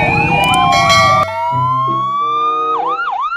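A toy police motorcycle wails with an electronic siren, its tone sweeping up and down, loud and close, starting over a busy rattle of other toy noise before carrying on alone.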